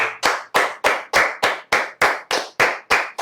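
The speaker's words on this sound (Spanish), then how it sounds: "recibamos con un aplauso" Rhythmic, unison clapping from a church congregation welcoming an evangelist businessman, about a dozen sharp, evenly spaced claps in a steady beat, loud and close with no talk over it.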